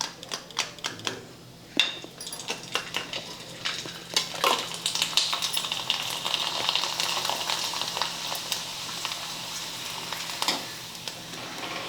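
Poha papad frying in hot oil, a dense continuous sizzle and crackle with scattered sharp pops, growing busier and louder after the first couple of seconds, alone without talk.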